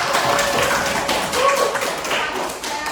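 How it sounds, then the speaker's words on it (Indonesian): A university class claps for a student group after its presentation, producing a brisk, close patter of hands that holds fairly steady throughout. "Tepuk tangannya untuk kelompok 2."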